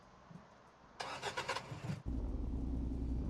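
A car engine in a video game cranks with a rapid burst of starter clatter, then catches into a steady, loud low idle rumble that holds to the end.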